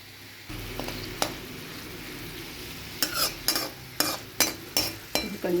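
Bottle gourd peel frying in oil, with a low sizzle under a run of sharp spatula strokes against the pan that come quicker and louder toward the end, close up, with no voices.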